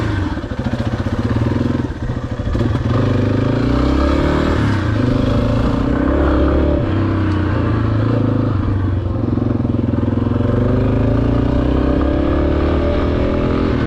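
A Yamaha XT250 dual-sport motorcycle cruises along a Texas road, its single-cylinder engine a steady loud drone with wind rush and rattle, held close and constant throughout.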